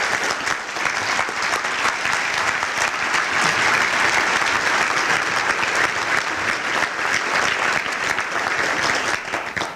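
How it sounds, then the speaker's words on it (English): A warm, sustained round of applause from a luncheon crowd at an educators' awards event, dense even clapping holding steady and loud for nearly ten seconds before easing slightly at the end. "I want to give them a warm round of applause."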